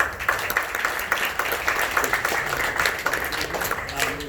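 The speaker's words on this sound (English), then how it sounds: "round of applause for Mr. Bora." An audience at a Mobile DevOps talk claps for speaker Bora Cobanoglu, a fairly close, moderately dense patter of hands with some murmuring or voices mixed in throughout.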